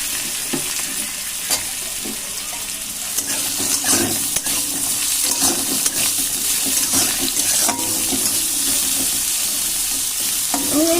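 Potatoes with green chillies fry and sizzle steadily in hot oil, a continuous crackling hiss with occasional stirring scrapes, close and fairly loud with no talking.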